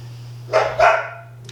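Two sharp dog barks in quick succession ring out from somewhere in the background, loud and close together, over a low steady electrical hum with no talking.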